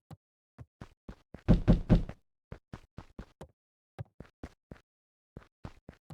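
Knocking on a door in the video game Beacon Pines, sharp dry knocks in quick irregular clusters, with one louder heavy burst of pounding early on, close and clear against silence.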